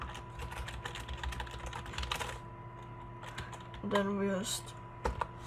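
Keyboard typing while coding a UI library from scratch, a close, steady patter of key clicks running through most of the clip beneath a constant electrical hum, with a short spoken phrase near the end.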